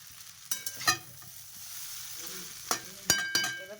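Chow mein is stir-fried in a hot pan with a wooden spatula, quiet sizzling broken by several sharp knocks and scrapes of the spatula against the pan.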